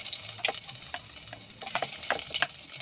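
Ginger sizzling and crackling in hot chicken oil for a Bicol express dish, with a steady close frying hiss, scattered pops and stirring clicks throughout.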